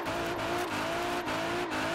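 An Infiniti Q50 built into a 1,000 hp drift car in Forza Horizon 4 drones with a steady, loud engine note that dips briefly at short regular intervals, like quick gear changes.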